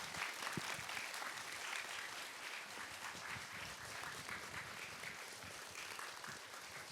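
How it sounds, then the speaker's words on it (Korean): An audience at a lecture hall applauds medieval philosophy professor Park Seung-chan as he is introduced. The clapping is steady and sustained but heard quietly and distantly, with no talk over it. "뜨거운 박수 부탁드립니다"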